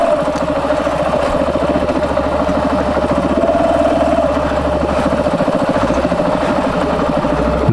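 Close, steady engine drone from a motorcycle riding in first gear on a trail in Montenegro, a rapid even throb that stays loud for several seconds with no voices.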